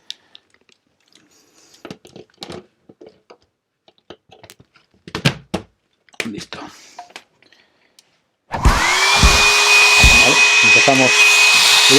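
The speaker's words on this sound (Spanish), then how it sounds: "Vamos a enchufar el secador." A small hair dryer switches on partway through and runs steadily with a loud, continuous whooshing hum, preceded by quiet handling, tapping and clatter while it is plugged in and set up.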